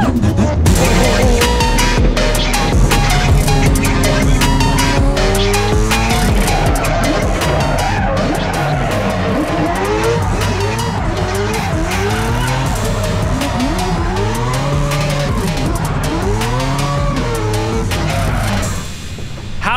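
Race car on soft compound tires spinning in place, a loud continuous skid and squeal over a roaring engine with rising and falling revs, close and sustained throughout.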